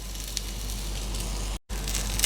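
Large prawns pan-frying in a wok give a steady, close sizzle and crackle that runs throughout, broken by one very short dropout.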